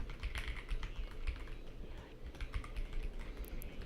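Fast typing on a computer keyboard clatters in quick irregular bursts of key presses, close and continuous throughout.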